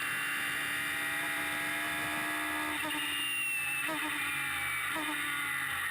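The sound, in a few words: Radical race car engine shifting through gears, onboard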